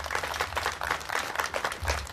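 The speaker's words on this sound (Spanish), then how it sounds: "Y que se escuchen fuerte esos aplausos" Applause at the inauguration of an equine therapy area at the municipal DIF rehabilitation unit in Carmen Tequexquitla: moderate, fairly distant clapping from a crowd, coming in uneven rippling waves.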